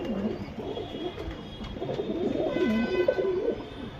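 A Surmi pigeon of good lineage coos in soft, rolling low calls, close and fairly steady, with a faint background hum.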